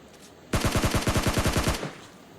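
Gunfire in the video game PUBG Lite: a rapid automatic burst of about a dozen loud, close shots in steady rhythm, lasting just over a second before cutting off to quiet.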